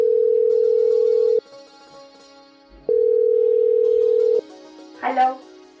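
A telephone ringback tone plays while a call goes through: two long, steady beeps separated by a pause, loud and close, before a voice briefly begins speaking.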